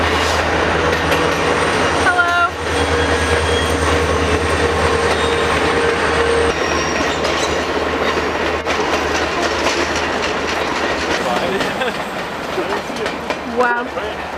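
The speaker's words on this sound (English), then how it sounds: "We're running to see the train like we ain't never seen no train before." A train passes near Bird Creek, Alaska, a loud, continuous rumble with clattering wheels and occasional squeals that lasts throughout, while a person briefly calls out over it.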